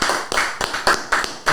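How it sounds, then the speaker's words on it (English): A few sparse, sharp handclaps from a small group, roughly four distinct claps spread unevenly over a moment, close and fairly loud. "I think they deserve a round of applause"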